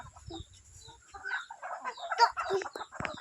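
Chickens cluck and squawk in quick, agitated bursts at close range while being caught, with faint rustling underneath and little talk.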